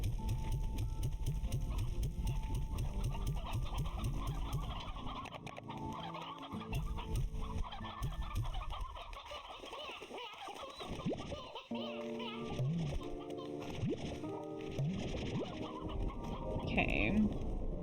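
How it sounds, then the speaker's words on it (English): Briar hens clucking in a busy coop or corral, steady overlapping fowl calls throughout, with children's voices and talk mixed in. "we're gonna put the briar hens in here."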